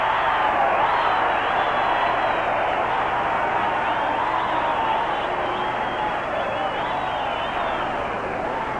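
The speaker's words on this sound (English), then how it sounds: "Talk about a crowd going absolutely crazy." A wrestling crowd at the Chicago International Amphitheater roars wildly after the Lou Thesz versus Verne Gagne match, a dense, loud, unbroken wash of cheering and yelling that holds steady throughout.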